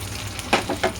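Pepper fish fry frying in oil in a pan, a steady close sizzle with a few louder crackling bursts as the pieces shift, heard with no talking.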